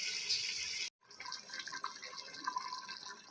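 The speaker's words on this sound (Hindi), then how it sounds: "ये देखिए अब हम इसमें थोड़ा सा पानी शामिल कर देंगे" Water is poured into a pot of fried mutton while cooking chana dal gosht. A steady splashing, filling stream runs, briefly stops, then continues with lighter trickling and dripping.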